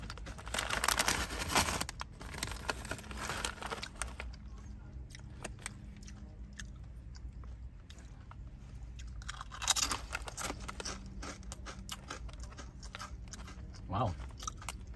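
Zapp's Regular kettle style potato chips crunched and chewed up close, a run of sharp crispy bites and crackles followed by softer repeated chewing, with brief crinkles between.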